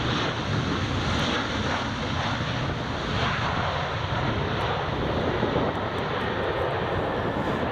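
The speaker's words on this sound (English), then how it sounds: "You could just hear the engine go, just keeping it nice, keeping the speed up" A large jet airliner's engines drone on approach to Edinburgh Airport, a loud, steady roar mixed with wind buffeting on the microphone throughout.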